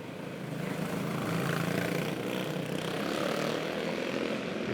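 Four dirt karts racing off the start of an eight-lap race, a buzzing blend of small engines droning steadily at mid distance with a slight swell and fade.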